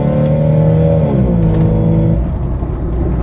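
A Jeep XJ fitted with a Specter cold air intake accelerating on the road, its engine revving loud and close with a rising then falling drone, no talking.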